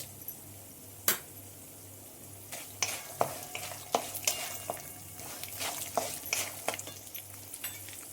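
Chana dal and urad dal frying in a pan with roasted peanuts, soft sizzling under frequent scraping and stirring clatter, close and fairly quiet, no voices.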